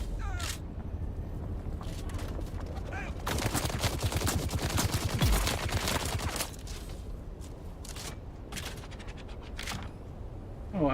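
Bursts of gunfire from the video game Dune Awakening, set in the Deep Desert: repeated rapid shots and fusillades spread through the stretch, loud and close, over a constant backdrop of game sound, with no speech.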